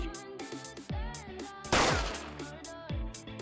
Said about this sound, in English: I just heard a single gunshot from outside.